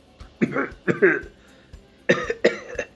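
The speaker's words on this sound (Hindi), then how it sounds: "निहायत ही नकली खांसी लेते हुए" Several deliberate, exaggerated coughs in two pairs, close and clear, with short pauses between them, sounding forced rather than natural.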